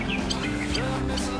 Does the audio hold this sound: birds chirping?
yes